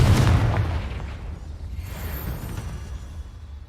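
A Confringo fire spell explodes in the Hogwarts Legacy video game with a heavy, close boom. The deep rumble gradually decays into a low, rolling tail.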